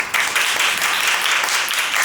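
Steady, full applause from a crowd, dense clapping sustained for a couple of seconds without a break.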